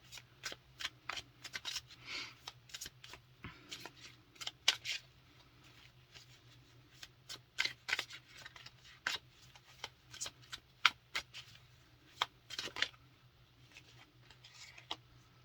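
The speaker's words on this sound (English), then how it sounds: "whenever I was shuffling the deck, these are the ones that kept coming out" A tarot card deck is shuffled over and over in quick, crisp bursts of riffling and sliding cards, irregularly spaced and fairly soft, over a low steady hum with no speech.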